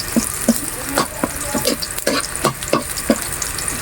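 Squid frying and browning in a pan for Filipino adobong pusit, a steady close sizzle broken by repeated clacks and scrapes of a utensil stirring, with no talking.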